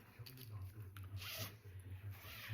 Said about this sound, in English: Let me see if I unzip it.